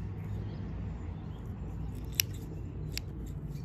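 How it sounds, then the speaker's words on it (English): Blue scissors snip through long, messy roots while a mountain ash tree is repotted, two sharp close cuts standing out faintly over a steady low background hum. "Just come in with the ubiquitous blue scissors."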